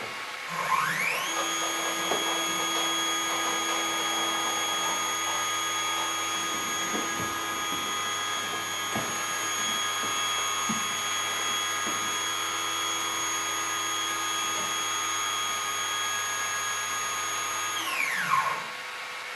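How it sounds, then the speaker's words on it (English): A DIY CNC longarm quilting machine stitching a pattern, a steady high whine with a constant motor drone that spins up at the start and winds down at the end, with faint ticking and clicks running underneath. "I can go start the machine and tell it to start the G code again"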